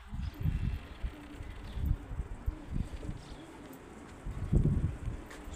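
Pigeons cooing close by, soft low throaty coos in irregular bursts with quiet gaps, one fuller coo toward the end.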